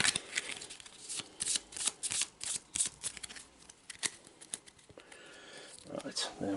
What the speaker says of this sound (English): And we'll just shuffle the Hideous Discovery back in.